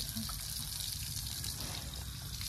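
Tap water runs steadily while muddy slippers are rinsed outdoors, a continuous hiss and trickle under a broad noisy background with faint indistinct voices.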